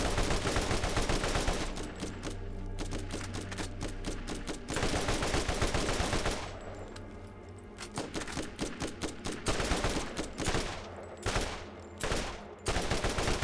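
Rapid automatic gunfire in the co-op shooter Borderlands, dense bursts and volleys rattling almost continuously, loud and close, with brief pauses between flurries and no speech.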